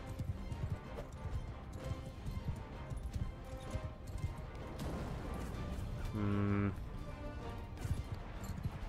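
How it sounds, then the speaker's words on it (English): A horse gallops in Mount & Blade II: Bannerlord during a siege battle, its fast hoofbeats drumming under constant battle noise, with a short tonal sound near the end. "Wow, this horse is so much faster."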